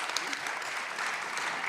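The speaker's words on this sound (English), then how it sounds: "So once again, applause, please, ladies and gentlemen." An audience at an academic conference on university internationalization applauds, a brief, continuous patter of many hands with a faint voice briefly audible beneath it.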